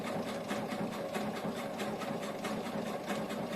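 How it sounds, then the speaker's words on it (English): Sewing machine running steadily while top stitching a shoulder bag flap on its front side, a continuous close whirring hum with rapid even needle rhythm throughout, no voices. "I am top stitching with the front side, the outside of my flap on the top."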